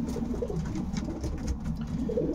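A pigeon at a pigeon show coos nearby in repeated low, throaty, rolling calls, fairly loud against light background murmur of the hall.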